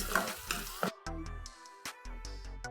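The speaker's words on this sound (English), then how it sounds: "you ensure that you fry up your tomato paste to perfection. So I'm going to fry this up for a bit." Tomato paste fries in a pot for Nigerian jollof rice, with soft sizzling bursts interrupted by several sharp stirring knocks and scrapes, fairly quiet and close.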